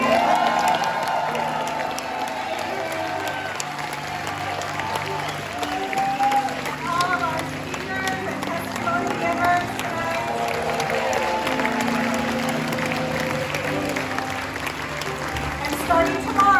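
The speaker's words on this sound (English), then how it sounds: "we give a round of applause to all the musicians tonight" Audience applause for the musicians at a benefit concert, a steady wash of clapping and some cheering that holds across the whole stretch, with a voice or two mixed into the crowd noise.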